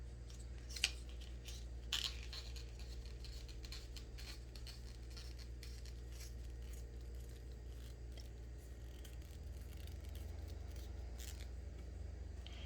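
Scissors snipping paper strips for paper beads, heard as faint, close, irregular cutting clicks and rustles over a low steady background hum.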